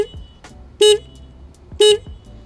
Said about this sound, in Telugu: చాలా లౌడ్ హార్న్ ఇస్తున్నారు అనమాట